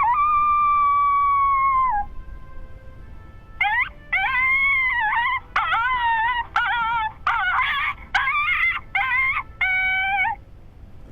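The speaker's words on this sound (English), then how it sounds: "Heard a pair howl off to the distance about 150 yards to my south" A pair of coyotes howling at night about 150 yards off during a hunt: one long wavering howl first, then a series of shorter yips and rising howls in quick bursts, fairly distant but clear, with no one talking.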